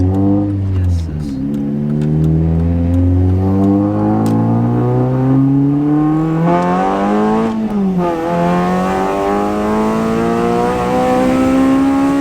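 A K24-swapped Honda Civic Type R FN2 accelerates hard, its engine note climbing through the revs with a gear change partway through, loud and close from inside the car, with people talking over it.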